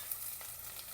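Ginger, garlic and green chilli sizzle in hot oil with mustard seeds, a steady, quiet frying hiss with faint stirring throughout.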